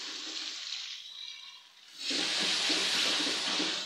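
Water is splashed into a frying pan of onion, garlic and green chilies frying in oil for Punjabi chicken pulao, a loud sizzling hiss that dips briefly, then surges back and holds steady.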